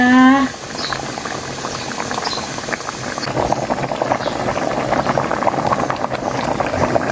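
A large pot of pickled bamboo shoot fish curry bubbling at a steady rolling boil, with continuous dense popping and gurgling that holds close and even throughout, after a brief tonal sound at the very start.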